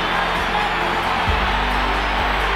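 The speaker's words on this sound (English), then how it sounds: "you got the crowd pretty excited" Boxing arena crowd at a heavyweight bout sending up a steady, loud roar of cheering that swells briefly midway.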